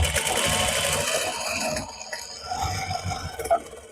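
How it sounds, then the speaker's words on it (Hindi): Sewing machine stitching pleats on a school uniform chunni, a close, steady mechanical whir with rapid needle chatter, briefly slowing near the middle before running on, no voices. "मैं इस प्लेट्स में एक सिलाई लगा लूंगी 5 नंबर का टांका"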